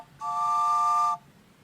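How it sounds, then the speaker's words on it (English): A train whistle gives one steady, multi-toned blast of about a second, clean and alone against a quiet background. "Yes, that's the train."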